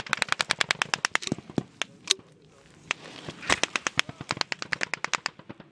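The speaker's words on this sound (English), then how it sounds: "They're just shooting over our heads." Rapid bursts of rifle and machine-gun fire as soldiers engage Taliban fighters in Afghanistan, dense cracking volleys in fast strings with a short lull between, loud and close.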